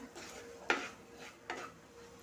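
Carrot burfi mixture with semolina being stirred in a pan, two distinct scraping spoon strokes over a faint, quiet background, close by and without talk.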